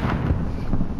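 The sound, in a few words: frag grenade explosion in Modern Warfare video game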